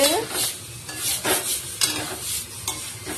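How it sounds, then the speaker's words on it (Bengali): Cauliflower stirred and sautéed in oil in a pan, a spatula scraping in repeated rhythmic strokes over a continuous close sizzle, with no voices. "দেখো বন্ধুরা এবার ভালো করে দু থেকে তিন মিনিট ভালো করে নেড়ে চেড়ে কষিয়ে নেবো যতক্ষণ না চারিদিকে তেল ছেড়ে আসছে"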